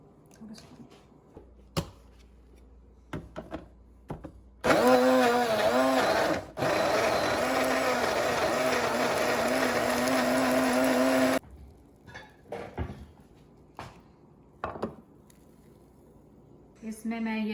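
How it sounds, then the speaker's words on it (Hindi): An electric grinder whirs loudly for about seven seconds as it purees coarsely chopped tomatoes, with steady motor drone between quieter clatters and handling knocks before and after. "टमाटर को मोटा मोटा चॉप करके इसी में ग्राइंडर में मैं इसको ग्राइंड कर लूँगी।"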